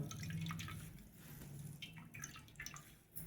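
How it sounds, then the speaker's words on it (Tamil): Tapioca milk dripping and trickling from grated cassava squeezed hard in a cloth, a close, steady watery patter with small splashes throughout. "இந்த துணியை வச்சு நல்லா இந்த மாதிரி அமுக்கி புளிஞ்சு எடுத்துக்கிறோம்"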